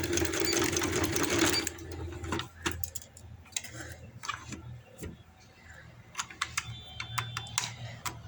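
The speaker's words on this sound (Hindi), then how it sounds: "चारों तरफ से मैं इसको इस तरह सिलाई लगा लूँ" A sewing machine stitching around the edges of a fabric piece for embroidered trouser hems, first a loud continuous whirring run, then scattered short ticking and clicking bursts at low level.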